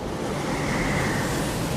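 Ocean water washes and pulls back off sand in a continuous broad rush of surf, steady and fairly loud with no voices.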